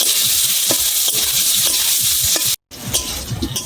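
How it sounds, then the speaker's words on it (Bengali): Boiled potatoes with turmeric frying in oil in a wok, a loud close sizzle with repeated stirring scrapes and a brief dropout near the end. "একটু লাল লাল করে ভেজে নেব"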